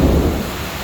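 A thunderstorm rolls in with a deep, loud thunder rumble that slowly fades over about a second, and a steady hiss of rain runs underneath it.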